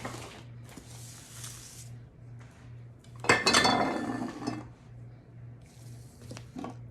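A big mixing bowl is shifted across a kitchen counter. Soft clinks and taps are followed by a louder scraping clatter midway, then a few quieter knocks, with a steady low hum underneath.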